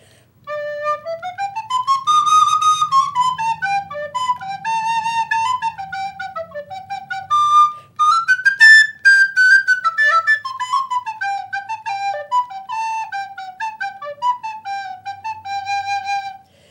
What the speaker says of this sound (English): Here is a C melody recorder that I use a lot.